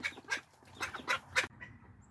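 Barnyard fowl such as chickens or geese on a snowy, thawing farm give four or five loud, harsh honking or quacking calls in quick succession, close by, over about a second and a half.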